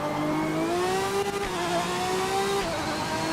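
A racing game's simulated Aston Martin DB9 engine revs up smoothly, its tone climbing steadily, then drops briefly before rising again, loud and close with no talk over it.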